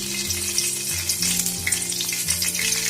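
Bay leaves fry in hot oil in a large wok, giving a loud, continuous crackling sizzle that stays dense and close throughout.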